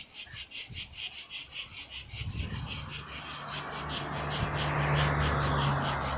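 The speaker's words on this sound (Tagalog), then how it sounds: "Yan yung tunog ng gangis" Steady, rapid cricket chirping pulses in a high, even rhythm throughout beside a giant tree, with a low rumble and faint background noise building midway.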